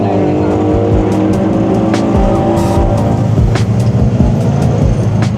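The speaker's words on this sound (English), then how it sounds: "Here is the CRG NA Miata" A Mazda NA Miata race car runs on the Clark Speedway circuit during an endurance race, its engine rising and falling through repeated gear changes at close range, with tire noise and faint voices underneath.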